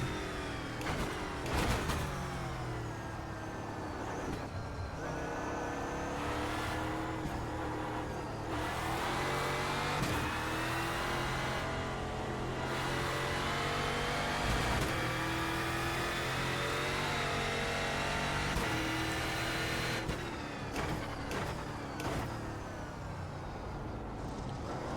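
Euro NASCAR V8 stock car racing in iRacing, a loud continuous engine roar that climbs through gears with repeated upshifts and lifts, heard from close onboard without any talk.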